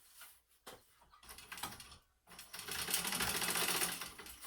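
A sewing machine stitches the side and top seam of a clutch bag, starting with short bursts and quiet gaps before settling into a loud, continuous close-up run.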